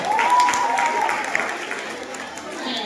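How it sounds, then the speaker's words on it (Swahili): Audience applause at a girls' school event in Nairobi, a dense patter of clapping from a crowd that stays steady for about three seconds, fairly close, with faint voices mixed in. "Hapo tunaweza mpa makofi tena,"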